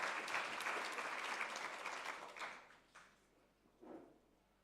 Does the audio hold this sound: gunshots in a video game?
no